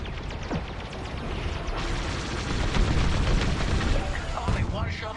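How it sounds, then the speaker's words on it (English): Starfighter blaster fire against shuttles in Star Wars: Squadrons: a dense, continuous barrage of zapping shots and rumbling space-battle noise, with a voice speaking under the din. "Shoot down those shuttles."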